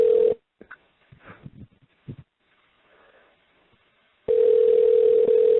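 A steady telephone call tone sounds loud and continuous at the start, cuts out for a stretch of faint muffled noises, then returns just as strong and unbroken for the final seconds.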